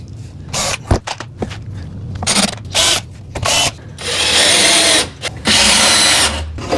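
A power drill drives a screw into a wooden bathroom cabinet, short bursts of whirring and clicks before two longer sustained runs, loud and close, no talking.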